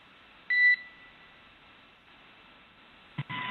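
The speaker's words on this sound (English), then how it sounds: "Let's talk about that tone that we're hearing while they do those comm checks. That like beep, boop." A SpaceX Dragon communication-check beep during a crew launch: one short, clear electronic tone near the start, followed by a quiet radio-channel hiss and a brief burst of static at the end.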